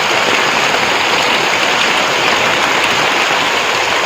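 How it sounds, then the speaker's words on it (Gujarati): Heavy rain pours steadily in Botad village in Gujarat, a dense, loud, unbroken hiss of water striking the ground with no voices over it. "કેવો વરસાદ પડે ફૂલ"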